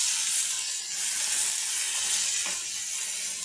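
Onions and tomatoes frying in a pan for egg masala give a steady, close hiss of sizzling that holds level throughout with brief dips, no voices over it.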